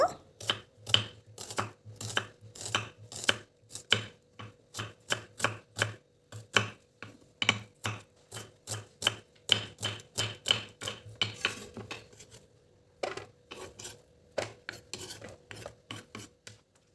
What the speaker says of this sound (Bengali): এখন পেঁয়াজ দুটোকে আমি কুচি কুচি করে কেটে নেব